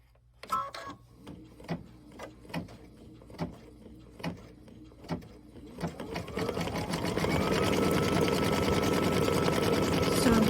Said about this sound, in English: We're going to turn this off while it's stitching this detail